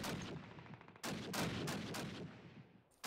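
Gunfire in a Call of Duty match, a rapid string of close, loud shots in bursts with brief gaps, no voices.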